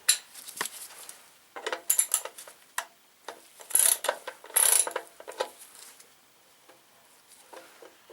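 A bolt being loosened on a Yamaha TDM850 motorcycle in a garage, heard as close, irregular ratchet clicks and metallic tool clatter in short bursts, alone with no talk.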